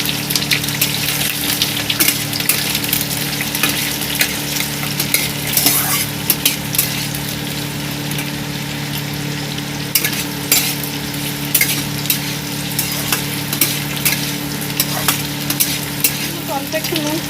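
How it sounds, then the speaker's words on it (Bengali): Onion, capsicum and pickled chilli frying together in a pan, a loud continuous close sizzle over a steady low hum, with repeated scraping stir strokes and no voices. "পেঁয়াজ আর লঙ্কাটা দিয়ে, আচারি লঙ্কাটা দিয়ে দেবো, দিয়ে একসঙ্গে ভেজে নেবো হালকা করে"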